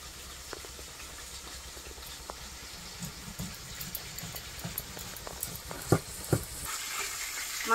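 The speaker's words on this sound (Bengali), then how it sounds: "মাছটা ভাজা হয়ে গেছে, উঠিয়ে নেবো," Pieces of catla fish frying in hot oil, a soft steady sizzle and crackle at moderate distance, with a few louder pops and clatters toward the end, no speech.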